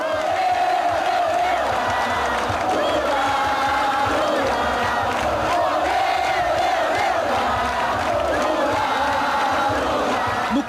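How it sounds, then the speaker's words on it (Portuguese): A massive crowd of over 300,000 people at a 1989 Lula election rally on Avenida Presidente Vargas in Rio de Janeiro roars and chants continuously, a dense, loud, unbroken wall of cheering and shouting. "No comício, o som da multidão era maior do que o do Maracanã lotado"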